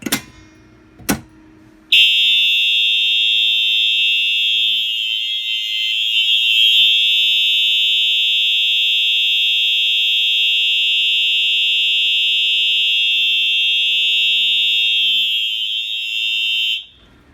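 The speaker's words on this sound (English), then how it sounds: "This thing is probably the loudest electronic horn I have" A Firelite BG6 electronic fire alarm horn blares a loud, steady, piercing tone for about fifteen seconds after a couple of brief clicks, then cuts off abruptly.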